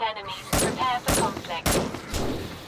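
Gunshots in the survival video game 7 Days to Die, four sharp loud reports spaced roughly half a second apart, with a voice talking between them.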